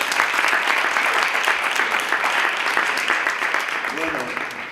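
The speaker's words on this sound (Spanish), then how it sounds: "Bueno, pues le damos un aplauso." A Spanish-speaking audience at an inclusion talk breaks into sustained, dense applause that fills the room evenly, tapering slightly near the end, with a brief voice surfacing underneath.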